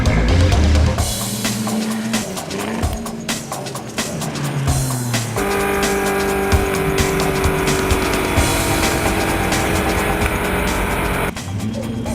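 Supercars racing on a wet circuit in Pattaya, including a big V8 and a Porsche 911, with loud engine roar passing close, shifting tones and tire noise over a continuous din.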